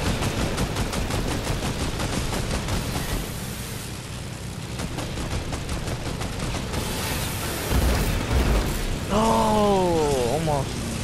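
A plane's guns in a video game rattle in fast continuous bursts over engine noise, with heavier booms toward the end and someone talking throughout.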